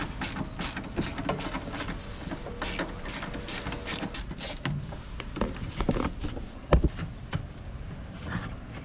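Two screws being backed out with a 10 mm wrench while removing the air filter housing on a Renault Kangoo 2 1.5 dCi, giving close, irregular metallic ratcheting clicks and scraping, with a sharper knock near the end and no talk.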